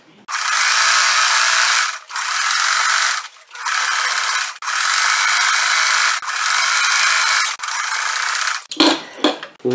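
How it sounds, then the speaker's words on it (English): A sewing machine zigzag-stitches around the raw edges of a crazy quilt tote bag, running in five steady bursts of about two seconds each with short pauses between them, then ending in a few loose handling clatters. "Now we're going to do a zigzag stitch all the way around, like toward the very edge"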